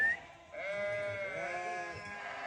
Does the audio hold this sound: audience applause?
no